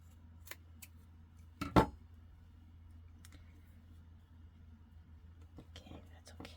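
Scissors snipping double-sided sticky paper while trimming a handmade bookmark, a few sharp close cuts in quiet room tone with soft speech in the background.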